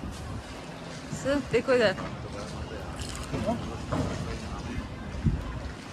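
A gondola ride along a canal in Venice carries faint water lapping and soft wind under the boat, while people chat and talk close by throughout.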